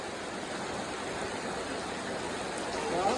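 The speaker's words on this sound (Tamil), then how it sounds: "நல்ல மழை அதிபயங்கர மழை" Heavy rain pouring down in Oluvil, Sri Lanka, a dense, steady hiss of falling water that holds constant throughout and swells slightly near the end, with no voices over it.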